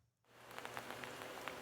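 Rain falls over an apartment complex and a parking lot full of police cruisers, a soft, steady wash with scattered patters that fades in after a brief quiet start, distant and faint.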